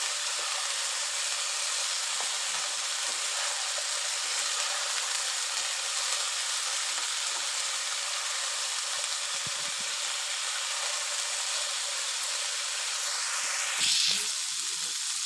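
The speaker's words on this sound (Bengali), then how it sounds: "তেল গরম হয়ে আসছে এবার তরকারিটা এবার ছেড়ে দিচ্ছি" Cauliflower and potato curry with tomato and green chilli hisses steadily in hot oil, a continuous close sizzle with a short louder spurt near the end.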